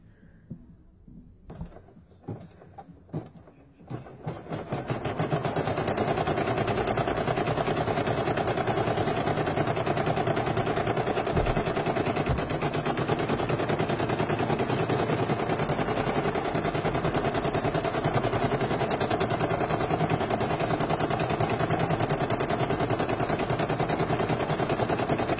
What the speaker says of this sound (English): now I'm just going to start the machine up again